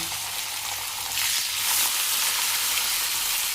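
Garlic dropped into hot oil just after the flame is switched off gives a close, continuous hissing sizzle that holds steady and rises slightly partway through, with no talking.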